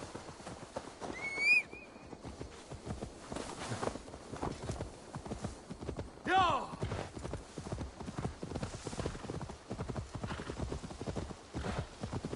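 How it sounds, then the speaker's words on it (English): Horse hooves clip-clop at a steady walking pace in a video game set in Viking-age England near Grantebridge, with a couple of brief whinnies standing out above the rhythmic footfalls. "Now to deliver Magni his horse."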